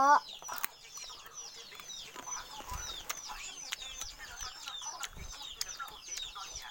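Chickens cluck and chatter steadily on a farm field, with several birds calling close and at mid distance in a continuous rhythmic flock chorus, with no talk.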